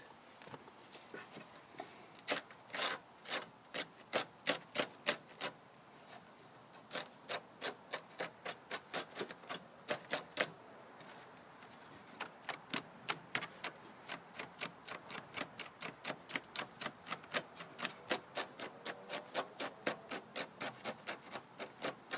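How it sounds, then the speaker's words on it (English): A razor blade scrapes caked buildup off the drive axle of a Honda Harmony HRT216 mower in a long run of quick, sharp rasping strokes, close and steady, with no talk. "I'm just using a razor blade, cutting all this away."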